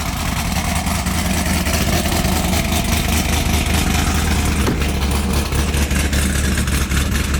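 A loud bolt-on Ford GT500 with its engine running close by, a thick steady low rumble that swells slightly partway through, with no talk over it.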